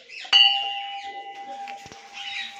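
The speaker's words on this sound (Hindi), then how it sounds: "यहाँ पे भी एक घंटी लगी हुई है" A single bell struck inside a village temple, ringing out once with a sharp strike and a long, steady sustained tone that fades slowly, with faint background voices.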